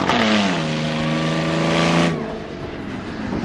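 Race car number 62 at Langley Speedway's Day of Destruction appliance race pulls back onto the track, its engine droning loudly with rising revs for about two seconds before easing off into a fainter rumble.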